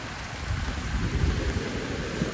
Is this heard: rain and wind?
yes